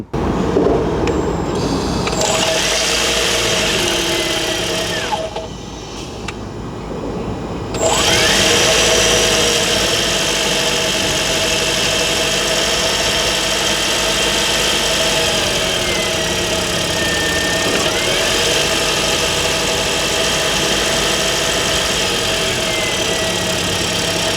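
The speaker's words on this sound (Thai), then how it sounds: "มาฟังเสียงเครื่องยนต์กัน" A Toyota Corolla Cross SUV engine idles steadily and close by with a constant mechanical hum, briefly dipping quieter midway before settling back to its even drone.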